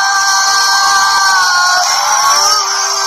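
A television singing-audition audience breaks into loud cheering and whooping, bright shouts rising over a sustained tonal backdrop before the noise dips slightly near the end.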